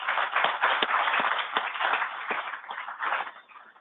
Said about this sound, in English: maybe just a round of applause for Danielle, Dominic, Charles, Carrie, and Chris